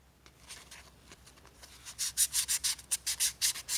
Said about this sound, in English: we're going to be starting by sanding all of our wood.